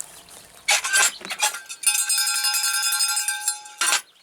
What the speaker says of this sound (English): As I ring a bell,